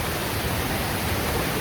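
Steady, full roar of a waterfall and rushing stream water at Ekiv falls in Satara, continuous and close with no breaks or voices.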